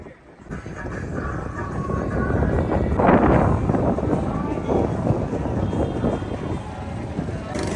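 Strong storm wind sweeps over water at Vrindavan during a severe thunderstorm with rain, a continuous loud buffeting roar with gusty surges. A voice talks over it at times.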